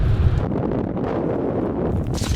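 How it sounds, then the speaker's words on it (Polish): Strong wind on an exposed hillside in Iceland roars and buffets steadily against the microphone, loud and continuous with low rumbling gusts. "tak wieje"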